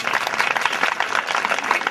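An audience claps together at a gathering honouring guests, a dense, continuous patter of applause that stays loud and close throughout.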